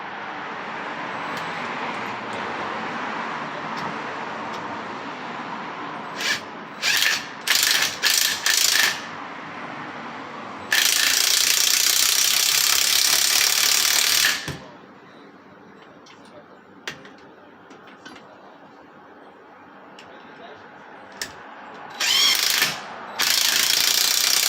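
Ratchet working a bolt loose on a Pontiac Fiero strut assembly, rapid clicking in several short bursts and one long sustained run, close and loud, with quieter mechanical handling between.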